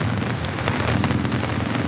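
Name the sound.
heavy rain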